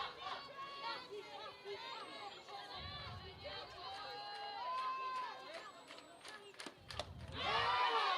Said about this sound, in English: You can hear the crowd is definitely into it early.